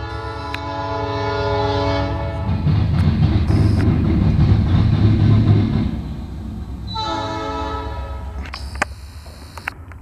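Norfolk Southern southbound light power locomotive move in Marion, Ohio, passing close with loud sustained horn blasts, a heavy rumbling pass between them, then another horn sounding near the end.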